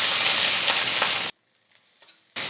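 Chopped ginger frying in hot coconut oil, a loud close crackling sizzle that cuts off abruptly to near silence, with a faint clink, before the sizzle resumes.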